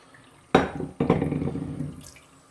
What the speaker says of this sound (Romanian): Și sub jetul de apă rece,